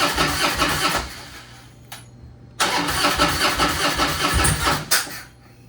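A beat-up Harley-Davidson Road King, freshly fitted with a new crossover tube, cranks loudly up close, stops briefly, then cranks again in a sustained churning burst before cutting off.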